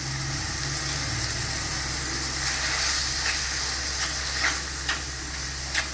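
Steady sizzling hiss of a masala with tomato, turmeric and salt sautéing in a pan for pakoda kuzhambu, with occasional stirring scrapes, close and continuous with no talk.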